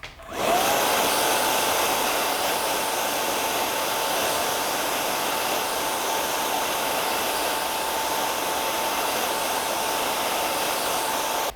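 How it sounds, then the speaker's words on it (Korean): A hair dryer blowing on hair, first warm and then cool air, a loud steady close whoosh that switches on at once and holds constant before cutting off at the end. "시작할 때는 온풍, 그리고 중간에는 다시 냉풍으로 변환시켜서 전체적으로 촉촉한 느낌이 남을 수 있도록 말려줍니다"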